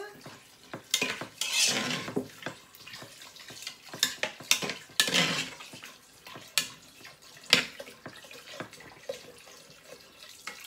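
A spoon stirring Asian soup in a cooking pot, irregular clinks and scrapes of metal against the pot with watery swishes in between, fairly close and without speech.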